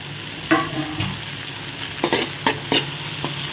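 Diced tomato dropped into a pan of frying poha upma with onion and green chilli, followed by a few sharp stirring scrapes and soft sizzling, close and clear with no voices.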